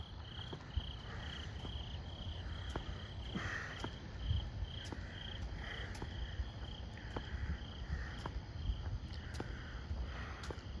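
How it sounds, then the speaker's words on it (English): A freckled frog calls at night among crickets, with steady insect trilling throughout and regular short frog calls repeating every second or so, faint and distant on a night walk. "We got the freckled frog."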